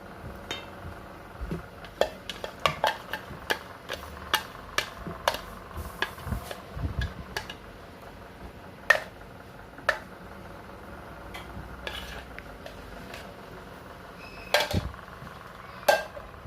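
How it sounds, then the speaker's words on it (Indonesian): Donut dough mixture being stirred in a bowl, giving a run of quick clinking and scraping taps that come in bursts, close and clear with no talk. "lalu kita aduk-aduk sampai semuanya kecampur."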